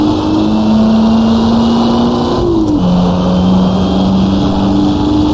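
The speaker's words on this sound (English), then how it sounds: "I got into first just to help slow the car down with the engine." Vintage race car in Assetto Corsa on the rural Australian Gnoo Blas circuit, its engine droning steadily and loud, dropping sharply in pitch as it is shifted down into first to brake, then holding a lower hum.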